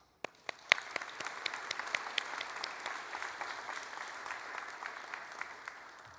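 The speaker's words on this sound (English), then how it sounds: "I also want to give you a round of applause and thank you as well." Audience applause at the Great Bay Community College nursing pinning ceremony, a few sharp early claps swelling into steady, fairly quiet clapping from the seated crowd that slowly tapers off.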